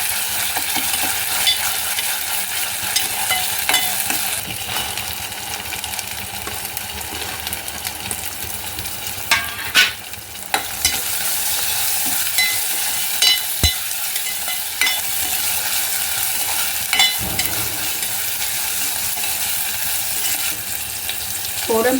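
Ginger, garlic and chili paste frying in oil for prawn masala, a continuous close sizzle with frequent stirring scrapes and occasional sharp clinks of a ladle against the pan.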